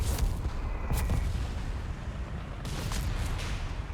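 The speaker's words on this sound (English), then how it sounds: "Dodge on the captain's artillery there" Heavy, rumbling booms of artillery fire in Company of Heroes 3 roll through a dense low battlefield din, with a couple of sharper impacts standing out near the start and middle.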